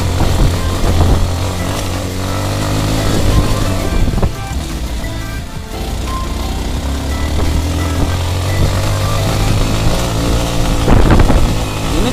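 A Yamaha WR155 trail motorcycle runs steadily on an off-road dirt track, its engine droning loud and close beneath heavy wind buffeting and rough rumbling, with the pitch shifting slightly as it rides.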